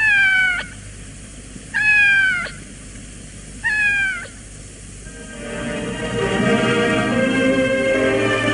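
In a 1965 French radio drama, a cat gives three loud, drawn-out meows spaced a couple of seconds apart, followed by a swelling bed of music.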